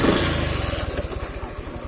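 A motorcycle engine idles in neutral, close and steady with a rapid even putter that slows slightly over the clip; the bike has a damaged clutch.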